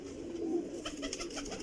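A single pigeon gives a brief, soft coo, quiet and alone, lasting under two seconds.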